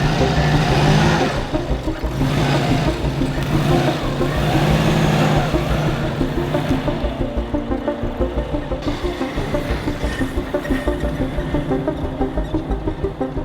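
A Subaru WRX that sat abandoned for a long time, missing its airbox, idles and revs up close by, a rough steady engine drone with brief rises in pitch, no one talking.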